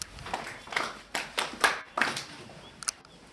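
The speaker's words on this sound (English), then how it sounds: "Please clap for me." Scattered clapping from a chemistry class, a handful of uneven claps and taps spread over a few seconds, fairly faint and loose rather than full applause.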